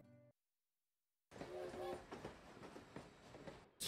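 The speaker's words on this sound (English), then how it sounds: "Cute little train." Train rattling along in the cozy video game Potion Permit, a soft clickety-clack rumble with a brief whistle-like tone, starting after a short silence and continuing steadily under light game sounds.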